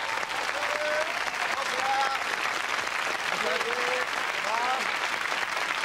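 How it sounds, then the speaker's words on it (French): A television studio audience claps loudly and steadily for a contestant, with whoops and cheering voices rising over the dense applause. "on l'applaudit très fort"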